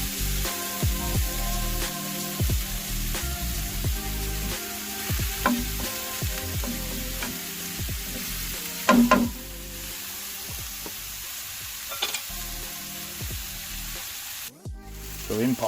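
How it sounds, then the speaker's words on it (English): Mushrooms and butter frying in a pan over direct charcoal for a grilled wild mushroom risotto, with a continuous sizzle broken by repeated scraping stir strokes and a few knocks of the utensil, heard close. "Give them a little stir, because we are cooking over direct charcoal."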